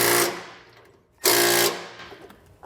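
Impact wrench with an 18mm socket tightening bolts on a 2022 Chevrolet Silverado 3500 tie-down, two loud close bursts of rapid hammering separated by a short pause.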